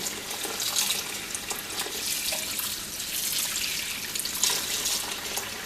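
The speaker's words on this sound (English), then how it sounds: "this will take a little time to wash thoroughly" Running tap water splashes steadily into a sink as grape leaves are rinsed for vegetarian stuffed vine leaves, a continuous close wash with small drips and shifts in the flow and no talking.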